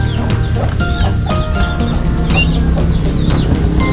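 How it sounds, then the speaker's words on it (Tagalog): Fourteen turkey chicks in a brooder keep up a steady chorus of high chirps and peeps, many overlapping calls over a loud, busy background rumble, near and continuous. "Dito po mayroon tayong 14 na sisiw ng pabo."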